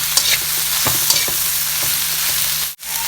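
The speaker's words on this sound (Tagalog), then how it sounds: "After that, ilagay na natin yung string beans. Yan, halo-halo lang." String beans being stirred with pork in a hot pan, a steady loud sizzle under scattered spatula scrapes and taps, then a sudden drop near the end; no one talks.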